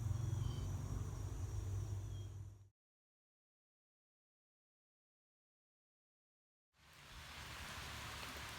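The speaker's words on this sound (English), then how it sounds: "Been kind of raining off and on, starting to pick up a little bit right now" Outdoor rain falls at a building site with a steady, even hiss, broken by several seconds of total silence before the downpour resumes at the same level.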